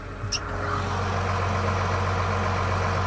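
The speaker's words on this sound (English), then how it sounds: "Listen to this tractor. Now it's not, the belts aren't squealing." A tractor engine runs steadily at idle, close and fairly loud, a constant low hum with no belt squeal, broken only by a brief higher click near the start.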